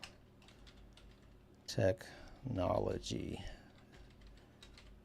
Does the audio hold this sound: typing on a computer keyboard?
yes